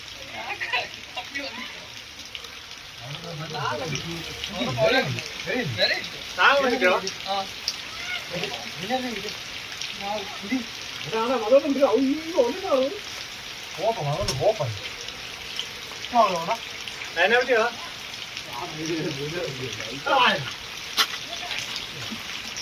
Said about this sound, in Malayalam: അപ്പം നല്ല മഴയായി കേട്ടോ